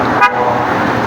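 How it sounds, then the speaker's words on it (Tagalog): A double horn fitted to a 2023 Yamaha Sniper 155 motorcycle gives one short, loud toot near the start, then steady engine and street noise carries on. "testingin mo nga yung busina mo"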